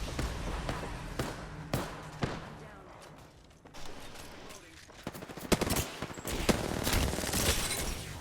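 Rapid video-game gunfire, with bursts of shots cracking irregularly at moderate loudness and clustering more densely toward the end, mixed with faint background voice.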